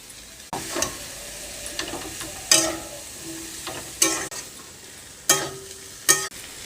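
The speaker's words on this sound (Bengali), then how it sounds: "মশলাটাকে ভালো করে কষিয়ে নেব।" Spices stir-frying in a pan with soybean chunks, potato and vegetable stalks: a low steady sizzle broken by several sharp scraping stirs, close and fairly quiet, with no talking.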